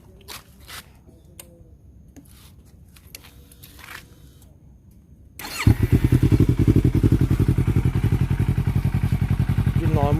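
A Yamaha R3 motorcycle fitted with an Akrapovic slip-on exhaust starts after some quiet handling clatter, then idles with a loud, rapid, throbbing exhaust pulse close by; someone speaks briefly beforehand.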